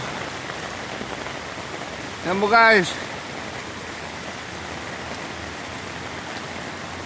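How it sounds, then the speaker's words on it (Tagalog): Heavy rain pours down during flooding in Metro Manila, a constant dense hiss throughout, with someone briefly speaking over it near the middle. "Hindi biro ang ulan dito."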